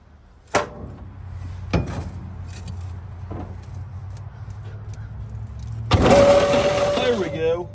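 A 1955 Chevy truck, sitting unused for about 30 years, cranks slowly on a weak starter, with a few scattered knocks early on. The engine then catches with a loud, rough burst near the end, and voices come through faintly in the background.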